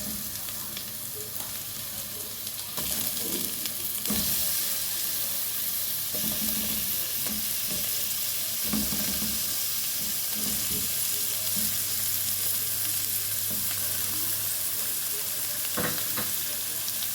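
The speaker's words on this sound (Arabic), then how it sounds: "اقلب البصل مع اللحمه عشان هي كمان تاخد لون" Meat and onions sizzle loudly and steadily in a hot pan while being stirred, with scraping and clinks of a utensil at intervals over the continuous frying hiss.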